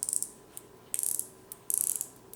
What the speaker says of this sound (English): Now listen to the bezel action.